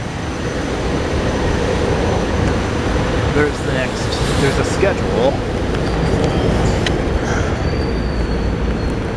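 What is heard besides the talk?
train arriving at Jefferson Station, Philadelphia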